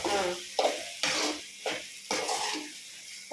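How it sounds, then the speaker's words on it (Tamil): Eggplant curry base sautéing in oil in a pan, with several distinct stirring scrapes and clanks over a soft low sizzle, close by. "நல்லா வதங்கிடுச்சு எண்ணெயில்."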